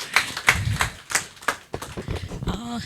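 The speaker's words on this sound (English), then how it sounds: "Come on, guys, a big round of applause for Shweta." A sparse round of hand claps rings out at a company town hall, distinct individual claps in an irregular rhythm, before a voice begins to speak at the end.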